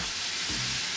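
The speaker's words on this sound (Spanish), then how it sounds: "esta paella tiene que hervir." Paella broth bubbling and sizzling steadily in a pan, a constant close hiss with soft popping, no voices.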